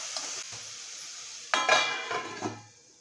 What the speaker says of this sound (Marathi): छान आपण परतून घ्यायचं आहे.